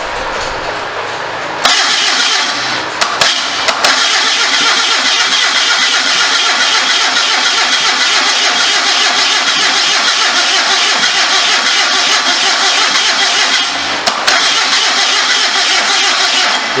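A 1974 Datsun engine fitted to a homemade motorcycle trike cranks and catches on its first start, then holds a loud, steady, raspy idle with a brief stutter near the end, close up and without talk.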